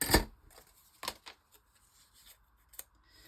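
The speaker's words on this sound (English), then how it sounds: "I'm gonna snip this one because they're quite fragile, like so." Scissors snip through fragile paper craft pieces, giving a few sharp, close cuts separated by quiet pauses, with a sharp snip at the start and a few fainter clicks after it.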